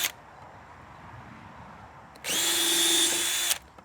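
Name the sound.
power drill pre-drilling black locust wood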